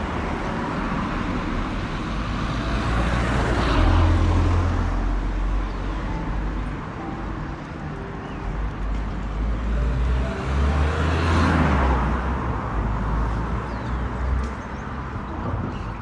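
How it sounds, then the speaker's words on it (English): Steady roadway rumble in Newtownstewart, County Tyrone, with vehicles swelling past twice, low engine and tire noise rising and fading, no voices. "You wouldn't think you get much sleep there with noise of traffic at night."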